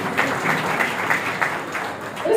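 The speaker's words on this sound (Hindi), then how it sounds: "प्लीज ताली बजा दीजिए।" An audience at a spiritual program claps in a steady, moderately loud patter, with a faint voice coming in at the very end.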